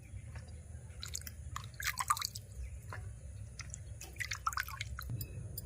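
Ripe bitter gourd seeds being washed in water, soft drips, squishes and splashes of wet seeds being rubbed and rinsed by hand, faint and close with a low background hum, no speech.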